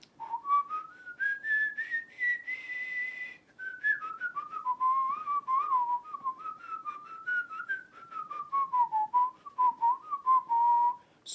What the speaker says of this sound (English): the whistling can be accomplished inhaling and exhaling